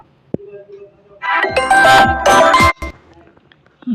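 A phone rings with an incoming spam call, a short bright chiming ringtone burst that starts abruptly, loud and close, then cuts off, with a faint tone beforehand.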